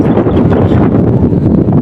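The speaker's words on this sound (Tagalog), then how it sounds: "Malikot yung hangin" Gusty wind buffets the microphone in loud, rumbling waves that rise and fall without pause, outdoors in a field while flying a kite.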